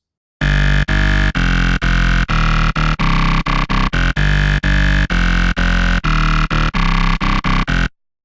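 A gritty, growling Random Amp Growl synth bass preset plays choppy, rhythmic stabs in quick succession, loud and compressed, with no talking.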